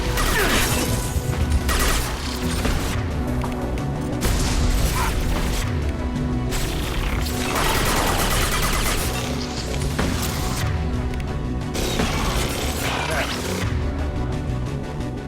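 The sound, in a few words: impact gun firing in Mass Effect 2 video game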